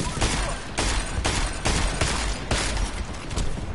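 Gunfire in the Deus Ex Mankind Divided video game, a fast string of about six loud, evenly spaced shots that come close together and fill the soundscape.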